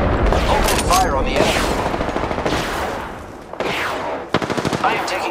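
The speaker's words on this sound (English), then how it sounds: "I am taking fire, friends." Rapid automatic gunfire from the video game Apex Legends rattles out in several loud, close bursts separated by short pauses, with a voice speaking over parts of it.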